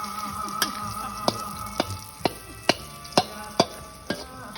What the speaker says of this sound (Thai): หอมกระเทียมพริกป่น เดี๋ยวจะให้เหลืองยังไม่เหลือง